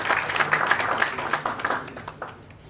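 A conference audience applauds the invited speakers, a short burst of many hands clapping that thins out and fades over a few seconds.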